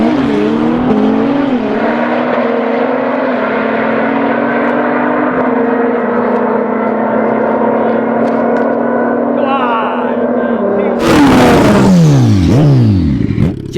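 A Nissan R35 and a Porsche 911 launch side by side in a drag race, the 911 starting from an unprepped shoulder; a loud, sustained engine roar rises through the gears, then a sharp, louder burst of revving closes the run.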